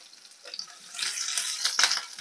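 Shallots and garlic sautéing in a pan for stuffed jumbo tofu fritters, a soft hissing sizzle that builds from quiet to steady and fairly loud, with a few sharper crackles near the end.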